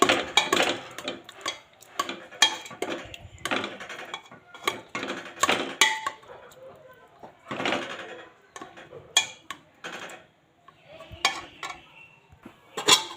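Repeated metallic scraping and clinking of a ladle mashing carrots for gajar halwa in a pan, irregular bursts close by, with no talking.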